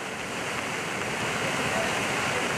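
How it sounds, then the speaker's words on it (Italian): Floodwater rushes down a street in Marostica as a steady, broad hissing roar of flowing water, constant and unbroken at moderate level throughout. "Qua siamo sulla zona dove viene giù l'acqua dalla strada"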